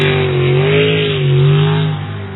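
A race car engine revs steadily and loudly up close as the car rolls out for a qualifying run at a sunny Port Angeles race, its tone rising and falling smoothly with no talk over it.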